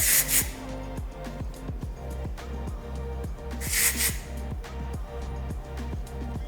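Two short hissing bursts of Kenra Spray Clay hair spray close by, one at the start and one midway, over a soft rhythmic background hum.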